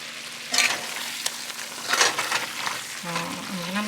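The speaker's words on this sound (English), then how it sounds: "toast the ground spices for like a couple of minutes" Ground spices toasting in a pot while making chicken biryani give a steady soft sizzle and frying crackle, with a few louder stirring scrapes, near and fairly quiet.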